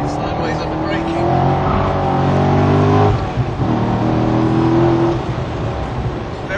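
A sports car driven hard on a race track, oversteering and sliding sideways under braking, its loud engine note rising and falling steadily while someone talks over it.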